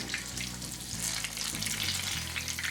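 Green chili fritters coated in batter fry in hot oil over a raised flame, a dense, continuous sizzle and crackle that fills the whole short stretch with no talk.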